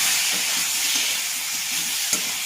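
Malabar spinach and chopped ginger fry in a pan with a continuous bright sizzle and hiss, close and steady, with one small pop near the end.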